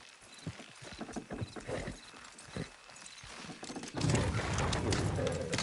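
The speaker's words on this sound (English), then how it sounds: "Good horse!" Steady hoof clip-clop from a horse in the video game Red Dead Redemption 2, rhythmic and fairly close, growing louder and denser toward the end.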